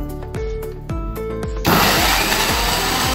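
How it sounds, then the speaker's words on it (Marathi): A kitchen mixer grinder whirs loudly as it grinds raw mango chutney with garlic cloves, starting abruptly after a stretch of spoken talk and then running as a steady, dense motor roar to the end. "आता मिक्सरला वाटून घेऊया आपण"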